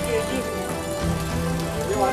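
Heavy monsoon rain pours down on a hill town in Uttarakhand, a dense, steady hiss of water that fills the whole clip without letting up.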